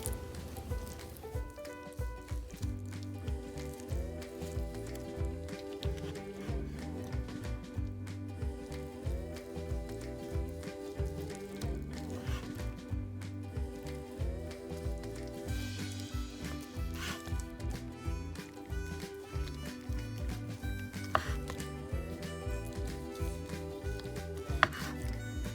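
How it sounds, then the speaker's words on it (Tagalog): A knife slices through cooked pork hamonado, a Filipino sweet braised pork roll, with repeated soft close cuts in a steady rhythm, quiet and alone throughout. "So umpisa na natin hiwain."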